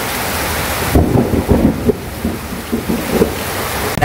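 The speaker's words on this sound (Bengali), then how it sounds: "বৃষ্টির আওয়াজ" Heavy rain pours with a dense, steady hiss while deep thunder rumbles through it, loud and close, with no voices.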